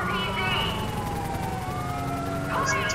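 Police car siren in GTA V with the LSPDFR mod, wailing continuously over a rumbling engine and traffic background, fairly close and steady.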